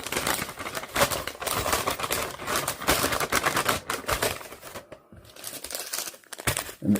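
Knife slicing into a 1989 US military MRE food pouch, giving a dense run of crinkly tearing and scraping that continues for several seconds, briefly pauses, then resumes at close range.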